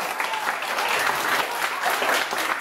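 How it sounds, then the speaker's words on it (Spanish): Children and adults at a Christmas gathering in an orphanage in Yarinacocha applaud together, a loud, dense burst of clapping close by that fills the whole moment. "A brindarle un fuerte aplauso a Kimberly, que ha traído los regalos."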